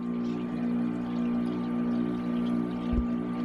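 Water steadily trickles and splashes over a stained glass grinder, wetted by an automatic brush, beneath a constant electric motor hum, with a brief low thump near the end.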